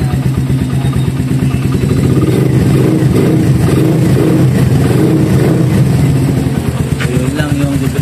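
A motorcycle engine runs loud and close after its spark plug has been cleaned, following a rain-soaked no-start; a steady, throbbing idle with slight revving continues throughout.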